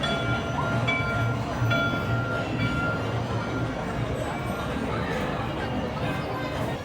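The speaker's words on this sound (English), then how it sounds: "we have made it on to our vehicle, our train" A Disneyland train ride rumbles along with a continuous, loud mechanical roar and faint rhythmic clatter, while people talk over it throughout.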